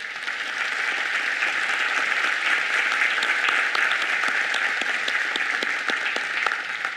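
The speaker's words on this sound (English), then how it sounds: "Let's give a huge round of applause." Audience applause at a chamber of commerce annual meeting: a steady, even patter of many hands clapping at moderate loudness, with a few sharper individual claps standing out.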